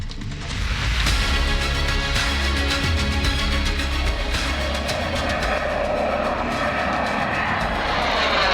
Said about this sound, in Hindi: इस एक्सप्रेसवे पर लड़ाकू विमानों की लैंडिंग और टेक ऑफ दोनों हो सकेंगे